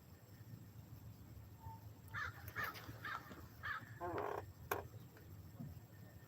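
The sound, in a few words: crows cawing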